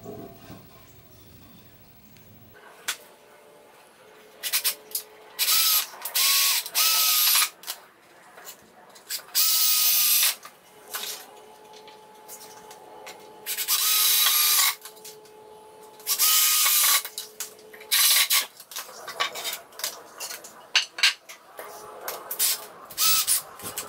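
A power drill drives 2.5 inch decking screws into wood, sounding as several loud, separate whirring bursts of a few seconds each with quiet gaps between them, close by and without speech.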